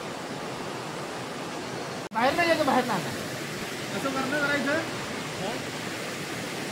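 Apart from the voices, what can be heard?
flowing stream water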